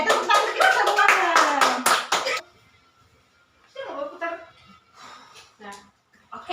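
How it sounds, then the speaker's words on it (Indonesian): A second-grade class of children clapping their hands in a classroom, a burst of loud chanting and rhythmic claps first, then quieter scattered claps and voices. "tepuk tangan kita semuanya"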